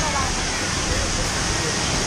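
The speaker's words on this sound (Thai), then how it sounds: "ตอนนี้เราก็อยู่น้ำตกกันแล้วนะ" Loud, steady roar of Soi Sawan waterfall in Thailand, a dense continuous rush of falling water close by that fills the whole stretch, with voices faintly under it.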